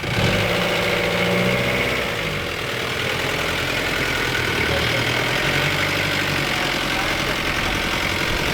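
A Philippine jeepney engine runs at a steady idle, a loud, rough, knocking drone that stays even throughout, with people talking faintly over it.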